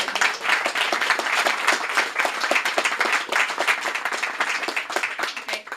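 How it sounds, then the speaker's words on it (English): Warm, dense applause from a bookshop audience at a book launch, close and loud, sustained evenly for several seconds with no talking over it. "can we just have one more round of applause for Vanessa"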